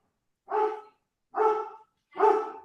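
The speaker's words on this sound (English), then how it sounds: "The dog will bark before class starts." A dog barks three times in a classroom before class starts, each bark a loud, full, separate burst spaced roughly a second apart, with no talk between them.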